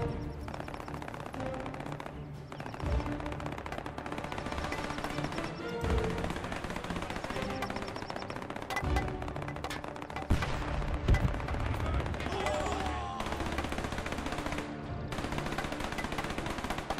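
Artillery guns firing continuously in the Men of War II strategy game, a dense, unbroken barrage of overlapping booms and rapid reports that holds steady throughout with a few louder thumps.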